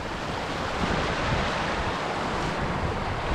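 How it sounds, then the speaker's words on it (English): Strong rushing water surges continuously around coastal rocks on a rugged Scottish shoreline, loud and close, with a steady broadband roar and wind buffeting the microphone throughout. "There's crazy water running in here"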